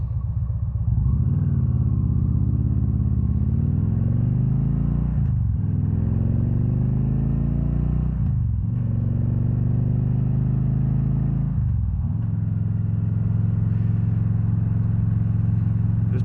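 A 2013 Victory Cross Country touring bagger motorcycle rumbles steadily while being ridden, its loud engine drone rising and easing with a few gear shifts, with no talking.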